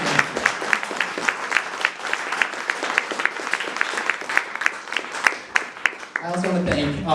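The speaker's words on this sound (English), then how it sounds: "let's give him a huge round of applause for always supporting me" An audience at the premiere of the film The Imposter claps in a dense, sustained round of applause honoring a late grandfather. Near the end the clapping stops and a voice begins speaking.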